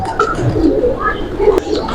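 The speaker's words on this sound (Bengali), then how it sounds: "এই যে এখানে দেখুন কবুতর গুলা ধান খেতে দিচ্ছে" A large flock of pigeons being fed paddy at the Hazrat Shahjalal shrine in Sylhet, a dense, loud mix of overlapping cooing and wing flutter from close by, with faint voices under it.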